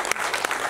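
A brief burst of audience clapping for a Nepali film team, a quick crowd applause with a couple of sharper claps standing out.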